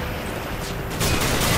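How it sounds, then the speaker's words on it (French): Gunfire in a chaotic shooter video game match, a dense, continuous wash of shots and clatter that grows louder partway through, with no talking over it. "c'est ça tire là, ça tire là, ça tire là, et ça tire encore"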